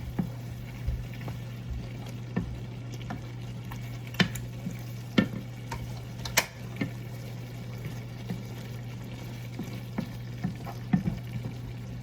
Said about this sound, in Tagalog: Halo-haloin.